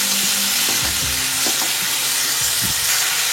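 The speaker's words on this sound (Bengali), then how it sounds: "টমেটো দিয়েও ভালো করে ভেজে নিচ্ছি" Chopped tomato frying in a pan with okra and potato gives a loud, continuous sizzle, broken by a few scraping stirs of a spoon against the pan.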